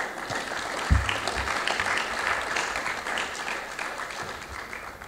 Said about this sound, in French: applaudir Aminata